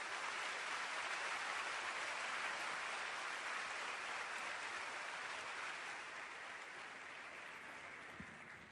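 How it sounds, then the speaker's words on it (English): Sustained audience applause at a high school veterans assembly honoring a sergeant, a dense, steady wash of clapping that holds evenly and slowly tapers toward the end. "give Sergeant Robles a warm round of applause for his sacrifices and service"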